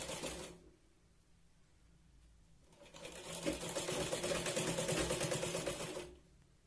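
A sewing machine runs close by, stitching a Katori blouse seam in two bursts: a short run, a pause, then a longer, steady whirring stretch of rapid needle clatter.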